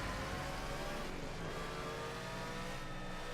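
An Audi V8 Quattro DTM race car in Project CARS 2 holds a steady, dense engine roar on a hill climb, loud and continuous throughout with no speech.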